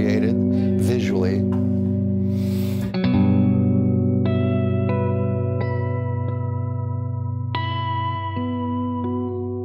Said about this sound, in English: Needs a little reverb. Context reverb in this case, made by Red Panda.